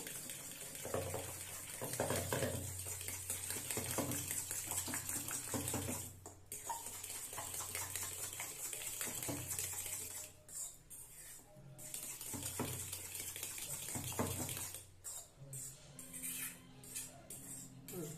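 Oats and semolina batter is stirred in a bowl as water is poured in a little at a time, giving a continuous close wet swishing and scraping with a few brief pauses and quick clinks near the end.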